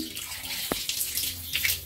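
Water runs from a newly installed kitchen faucet in a steady, close hiss that holds through the whole stretch, broken only by one brief click near the middle.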